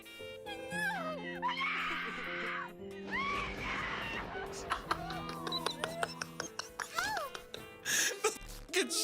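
A character in the video game Mass Effect screams amid game music and sound effects, with someone talking over the game audio.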